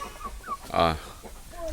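A large hill-breed hen lets out a single loud, throaty cluck up close, with quieter rustling before and after.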